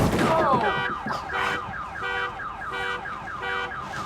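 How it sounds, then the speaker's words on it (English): A car alarm blares close by, cycling through a warbling wail and then repeated stepped whoops in a steady, insistent pattern. "Deactivate the car alarm"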